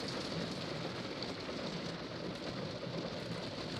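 Steady rain falls at a lakeside fishing spot, a dense even patter on surfaces with no voices.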